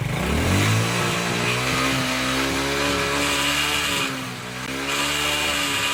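A motorbike engine revs steadily and loudly up close as the throttle is opened, its pitch climbing at first and then holding a sustained buzzing drone with a brief dip near the end, while the bike runs rich and puffs black smoke.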